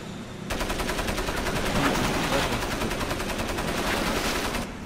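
Sustained rapid gunfire in a mine-climbing video game, a dense continuous barrage of loud shots with steady rhythm running nearly five seconds with no voices.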